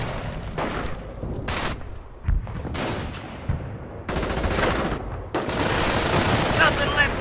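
Rapid bursts of machine-gun and rifle fire in Company of Heroes as German troops attack a forward emplacement, dense overlapping volleys and sharp single shots continuing throughout with a battlefield din behind them.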